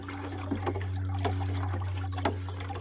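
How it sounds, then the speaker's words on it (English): A liquid beneficial bacteria garden mix is stirred, giving soft, close sloshes and trickles over a steady low hum. "Gonna give it a good stir."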